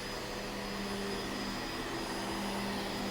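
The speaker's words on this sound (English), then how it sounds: "I will pre-vacuum everything." A household vacuum cleaner runs steadily indoors before stair cleaning, a loud continuous motor whine with a strong airy roar and no pauses throughout.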